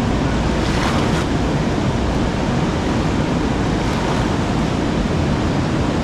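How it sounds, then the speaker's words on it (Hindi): The fast, muddy Neelum River in Muzaffarabad, swollen after rain, rushes past with strong water pressure, a loud, unbroken roar of churning water with no voices. "प्रेशर बहुत है पानी का"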